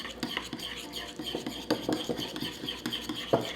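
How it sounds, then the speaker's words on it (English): A utensil stirring dry mustard powder and hot water into a paste in a small bowl, giving close, irregular scraping and clinking taps in a kitchen, with faint murmuring underneath. "Stir that mixture together until the powder and the water become a paste"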